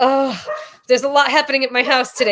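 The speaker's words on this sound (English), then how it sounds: "Sorry if you guys can hear a barking dog behind me." A dog barks in the background of a home, faint and partly buried beneath continuous close talking, with a few brief yelps in the quieter gaps.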